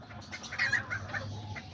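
A small Azteca or Serama rooster with hens clucking in a backyard coop, a run of short bright clucks and squawks rising in the middle over a low steady hum, fairly close and with no talking.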